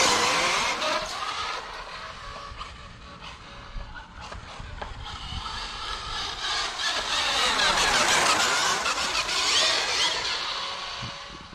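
A radio-controlled car fitted with a Performa 2100kv motor and SkyRC Toro 150A speed controller drives past, its high electric whine rising and falling in pitch as it passes close, loud and continuous.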